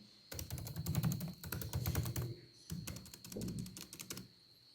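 Fingers type on a MacBook Pro laptop keyboard in quick bursts of close, crisp key clicks, with a brief pause in the middle and a faint steady hum underneath.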